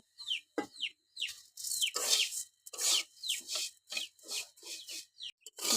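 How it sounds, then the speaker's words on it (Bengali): Mung dal fried in a wok, stirred in a steady series of close, dry rasping scrapes and rustles, each stroke short and separated by brief pauses. "এবার কড়াইয়ে ডালগুলো দিয়ে দিব দিয়ে ভেজে নেব"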